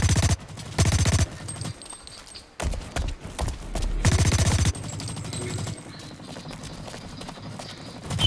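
Bursts of rapid automatic gunfire in the shooter Blacklight Retribution, loud and close, coming in several separate volleys with short gaps and mechanical clatter between them.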